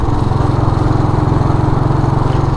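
A Royal Enfield motorcycle with a cast iron engine runs steadily nearby, its rapid, even thumping pulse holding a constant beat throughout with no talk over it.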